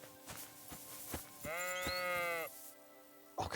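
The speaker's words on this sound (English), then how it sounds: "Sheep." Sheep bleating in the medieval game Kingdom Come: Deliverance II, one long wavering bleat rising clearly over a soft ambient background with a few faint thuds.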